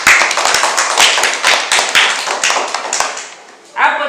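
Students in a Swahili language classroom clap together in a quick, rhythmic burst. The sharp claps are close and loud, and a voice starts speaking right at the end.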